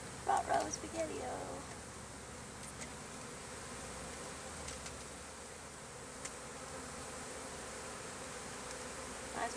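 Bees buzz steadily around a hive holding brood, a constant low drone close by with a few brief knocks and rustles at the start.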